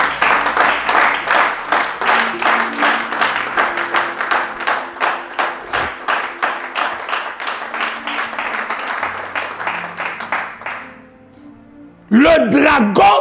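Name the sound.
congregation applauding to acclaim the Lord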